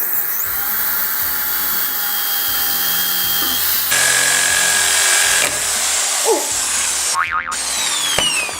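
Big drill boring through timber on a door with metal inside it. A loud, continuous whining grind runs throughout, with pitch shifts and a few sharp knocks and squeals near the end.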